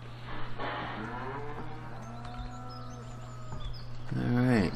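Cattle in the video game Farming Simulator 2013, on an Alps Austria farm map, give long drawn-out moos, with a further call near the end over a steady low hum.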